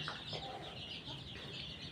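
Chickens in a small coop, several hens murmuring and clucking softly and continuously for a couple of seconds, faint and close under a steady background hiss with no talk.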